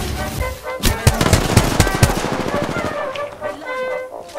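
Rapid bursts of gunfire in Apex Legends, a dense run of loud, close shots in the first half that thins out into lighter, scattered firing and game noise.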